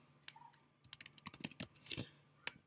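Brief burst of typing on a computer keyboard, a quick run of close, crisp key clicks with short pauses and one last isolated tap.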